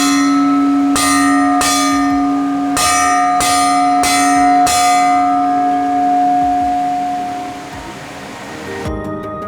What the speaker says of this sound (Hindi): तो आप एक बार घंटा लगा दीजिए